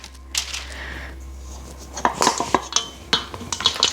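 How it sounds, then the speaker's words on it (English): Vegan no-bake peanut butter chocolate chip cookie dough being pressed into a big cake tin, giving a run of close, irregular scrapes and light metallic taps from about two seconds on, with no talk. "we're going to press it into our cake tin"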